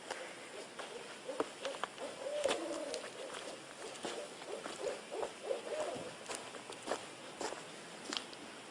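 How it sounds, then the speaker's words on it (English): An owl hoots softly in the distance, repeated low calls over a quiet night background with faint rustling. "I never really heard owls like that."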